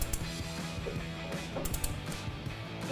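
A ratcheting brake caliper piston compressor tool clicks in quiet, irregular bursts against a steady mechanical background, spreading a Silverado 1500 caliper to push its pistons back.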